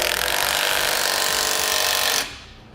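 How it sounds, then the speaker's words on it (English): A socket tool tightens the 1/2-inch hardware on a Roadmaster crossbar-style base plate fitted to a 2013 Ford Taurus. It gives one loud, steady grinding whir for about two seconds, then cuts off. "I'm going to snug up all my hardware before I give it the final torquing amount"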